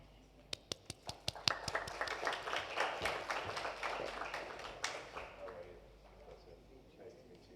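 Applause from an audience at an EV safety conference: a few sharp separate claps first, then a thickening round of clapping that thins out and fades near the end, heard a little distant.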